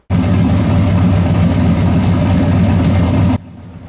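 A turbocharged car engine on a dynamometer drones hard and steady in a loud, sustained pull lasting over three seconds, then cuts off abruptly to near silence, with no voices.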